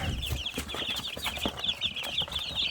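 Chicks of a mixed flock, including Silkie-type and black Ameraucana birds, cluck and cheep continuously at close range, with dense, overlapping calls and no one speaking.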